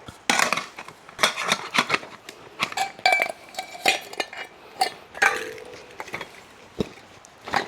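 Cooking utensils packed into a bag for a DRZ400 motorcycle trip: irregular close clinks, clatters and knocks of metal pots and cutlery, with brief pauses between handling sounds.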